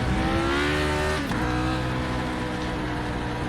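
A Lotus 49 race car in a video game howls around the twisting Hungaroring circuit, its engine note loud and close. Revs rise, then drop sharply with a quick downshift before the engine settles into a steady drone.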